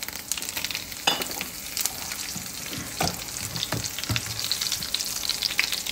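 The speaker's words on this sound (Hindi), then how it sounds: "अभी मैं लगाने लगी हूँ तड़का।" A tadka tempering spitting in hot oil for Punjabi kadhi pakora, a dense continuous sizzle and crackle with irregular louder pops and stirring clatter, close and alone.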